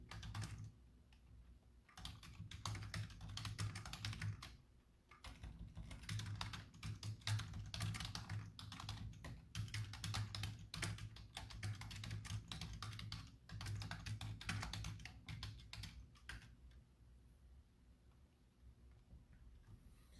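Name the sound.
typing on a computer keyboard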